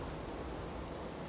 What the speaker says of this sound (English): This infernal rain.